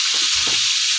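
Cauliflower florets frying in oil in a kadai with a little salt and turmeric, a steady close sizzle with a few low stirring knocks partway through.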